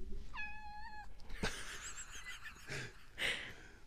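A pet cat meows indoors, one clear drawn-out call followed by softer breathy chirps and rustling, close to the listener and quiet overall, with no talking.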